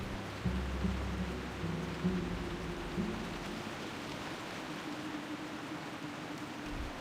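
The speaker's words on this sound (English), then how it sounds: "It's raining everywhere today to reflect real life for me." Rain falls steadily in a World of Warcraft game world, with a soft hiss and low rolls of thunder rumbling near the start, all fairly quiet.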